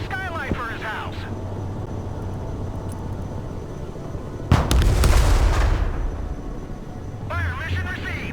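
Artillery in the video game Broken Arrow fires a single loud, heavy blast that rolls out for a couple of seconds, framed by radio-style voices talking before and after.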